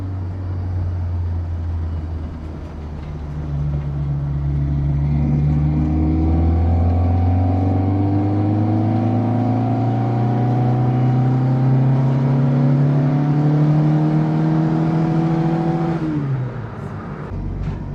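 An old Abarth car on a test drive after a shaking problem was addressed, its engine droning steadily and rising in pitch as it accelerates, then easing off near the end, with no talk.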